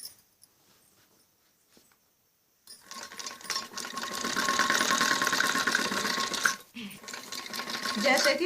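An electric sewing machine stitches buckram onto a kameez neck, starting after a quiet pause and running in a continuous fast whir close by, with a brief stop before resuming; someone talks.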